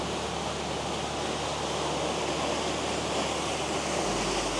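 Continuous broadband rush of water at Huanglong Pool in the Lushan mountains, a small waterfall spilling over mossy rocks, close and even in level throughout, with no talking.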